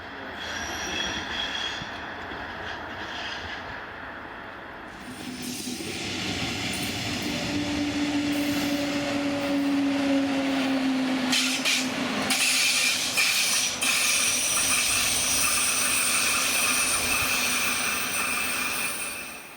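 Class 143 electric locomotive hauling a westbound S-Bahn Line S3 train out of Dresden-Plauen, wheels squealing loudly and continuously against the rails while the steady rumble of the passing train builds and holds throughout, no voices.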